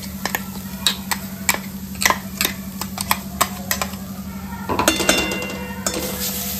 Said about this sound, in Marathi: आता खोबरं आपल्याला भाजून घ्यायचं